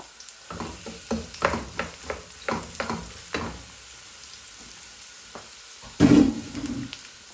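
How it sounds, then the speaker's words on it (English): Onions frying in a pan for bhindi masala (okra curry): a low sizzle under a run of rhythmic spatula strokes, quieting midway before a louder burst of scraping and sizzling near the end. "Fry the onions till light brown."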